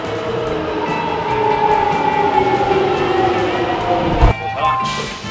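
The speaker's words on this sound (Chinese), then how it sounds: "名古屋地铁初体验，我们现在坐鹰通线" Nagoya subway train ride heard from inside the carriage: a steady, loud rumble with a sustained whine, continuous throughout, with a brief thump near the end.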